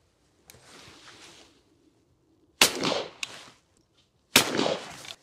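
Two sharp, loud .410 shotgun blasts at clay targets, each a sudden crack with a rolling outdoor tail, spaced about two seconds apart and following a fainter earlier shot.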